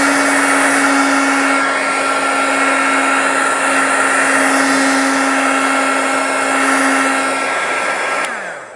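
A handheld dryer blows over Gelatos paint on a craft background, a loud, steady whirring drone with a constant motor hum that holds for about eight seconds before cutting off.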